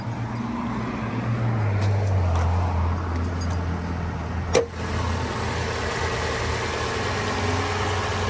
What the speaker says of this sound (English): We'll take a quick look at that new turbocharged engine.